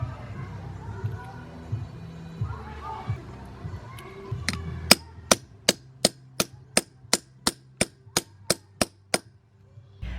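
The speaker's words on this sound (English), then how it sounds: "an apartment would not be the appropriate place to hammer a bunch of these on" Hammer blows setting metal grommets onto a costume, about a dozen sharp metallic clanks struck at an even, steady rhythm close to the microphone, preceded by quiet talk and shuffling.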